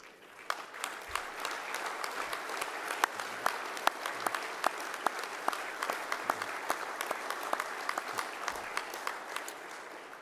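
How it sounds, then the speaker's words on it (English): Banquet guests at the 2014 ICC annual dinner give a standing round of applause for strategic partners, a continuous crowd clapping with sharp individual claps popping out, steady and fairly loud for the whole stretch. "Would the representatives of all the strategic partners please stand for a well-deserved round of applause?"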